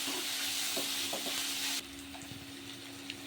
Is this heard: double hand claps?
no